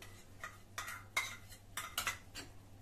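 A spoon mixes pressed cream (malai) into custard in a bowl, giving a series of quick clinking, scraping strokes against the dish, close and moderately quiet, with no voices.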